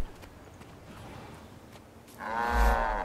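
A cow moos in the video game Guild Wars 2, one loud low call rising near the end over steady ambient game background.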